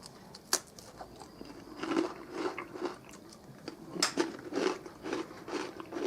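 Crisp crunchy bites of food from a US Army MRE ration pack, several in a row with chewing between, close to the microphone and fairly quiet, no talking.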